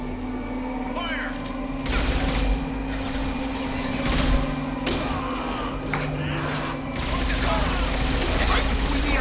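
Video game gunfire cracks in bursts over a steady mechanical hum, with sharp broadband shots at about two, four and seven seconds and voices talking throughout.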